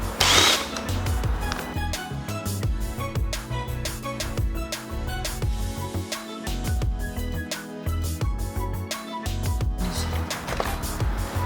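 Screws being removed from a Nissan 350Z interior panel, with steady clicking and clattering of a hand tool on plastic trim, close and busy throughout, with no talking.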